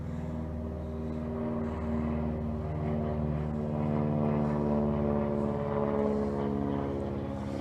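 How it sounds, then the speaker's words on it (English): An airplane drones steadily overhead, its low propeller hum swelling slightly louder midway before easing off. No one talks. "And we have an airplane going overhead."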